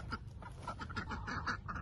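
Ducks kept as farm fowl near a fly trap quack in a continuous, low, overlapping chatter, a flock murmuring steadily at moderate distance.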